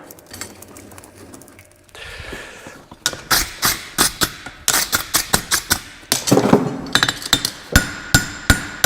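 A hammer rings sharply on hot metal over the heaviest part of an anvil during horseshoe forging, a string of loud, close, evenly spaced strikes after a quieter opening.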